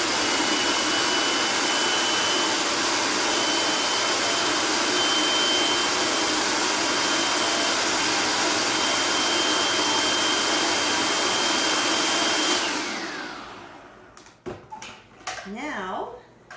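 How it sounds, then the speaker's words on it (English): A food processor purees chili ingredients, including beans, with a loud, steady whirring roar that runs for about twelve seconds. It then stops abruptly, leaving a few scattered clatters. "So I am going to just puree this up here in the food processor."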